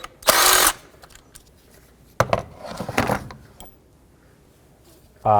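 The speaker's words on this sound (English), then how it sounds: "with a 10mm remove this bolt here" A 10mm socket on a ratchet or power tool backing out an ignition coil bolt on a 2002-06 Toyota Camry engine, short bursts of whirring and metallic clicks separated by quiet pauses, close by.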